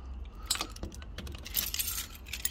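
Keys jangle and clink in a few quick, close metallic bursts in a workshop during a woodworking build of a BBQ side table, with no talking.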